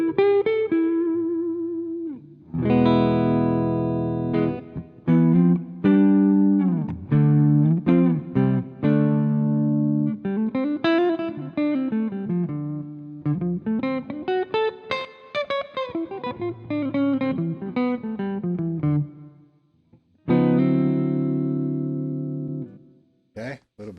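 Clean electric guitar on the neck pickup, played with a plastic pick: a run of picked notes and short phrases with bending, sliding pitches, close and clear, separated by brief pauses, with no talking.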